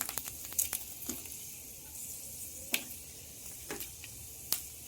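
Nigella seeds and fenugreek frying in hot oil, with a faint, quiet sizzle broken by scattered small pops and crackles at irregular intervals, close by and with no talking.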